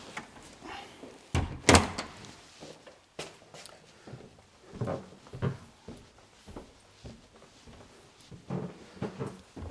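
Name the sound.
door being shut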